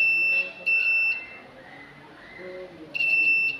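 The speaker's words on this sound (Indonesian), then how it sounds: "Dia ketika terhubung maka alat ini akan berbunyi." A continuity tester checking a rice cooker heating element wire gives piercing high electronic beeps in short bursts, a pair close together, a quiet gap, then another beep, with faint background noise between.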